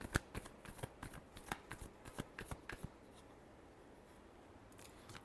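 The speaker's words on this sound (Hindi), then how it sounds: "Last shuffle." Tarot cards being shuffled by hand, a quick run of crisp, close riffling flicks that thin out into faint rustling and then near silence.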